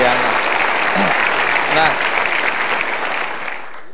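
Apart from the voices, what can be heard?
studio audience applause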